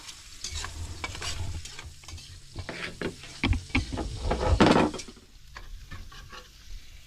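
Red onion sizzling in a frying pan while being stirred, a close frying hiss with scraping strokes that swells into a louder burst near the end, then eases off; no talking.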